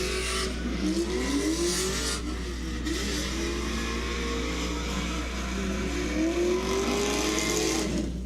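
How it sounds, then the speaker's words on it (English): A drift car with its exhaust hanging loose and dragging along the track during a top-16 drift competition at a pro event; a loud, steady engine roar with rising and falling revs fills the whole stretch, with tire noise and a busy crowd-like wash behind it. "Look at the exhaust dragging."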